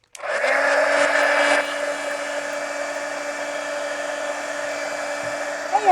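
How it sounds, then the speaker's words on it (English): A heat gun blows hot air to dry mixed media collage art cards, a steady loud whirring hiss that starts abruptly, drops slightly in pitch after a second and a half, then runs on evenly. "now I want to take heat gun and I'm going to dry these real quick"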